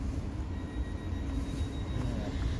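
A train stands at Hampton station, a steady low rumble of its idling engine and rail noise filling the platform, constant and fairly close with no clear talk over it.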